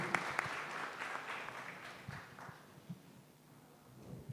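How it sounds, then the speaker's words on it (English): An indoor audience at a pitch event applauds, a dense patter of clapping that starts full and gradually thins and fades toward the end. "Big applause again"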